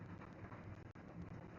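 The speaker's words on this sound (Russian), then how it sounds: "еще дождь идет этот" Steady rain hisses outdoors in a dense, even wash of noise, faint and continuous through the whole short moment with no voices.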